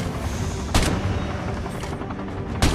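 Gunfire in a Call of Duty battle royale match, a sharp loud shot near 0.75 s and another near 2.6 s over constant dense game noise and rumble.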